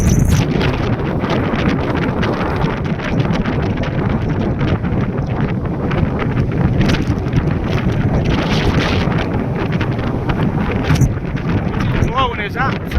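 Strong gusting wind buffets the microphone on a winter walk at Grenoside, a loud continuous rumbling blast that surges and eases, with a few faint higher sounds near the end.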